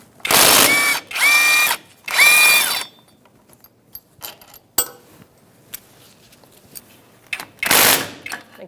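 Three sharp bursts of a power ratchet or impact tool spinning drive shaft bolts on a Ford Expedition, then quiet clinks and handling of metal parts before one final whirring burst.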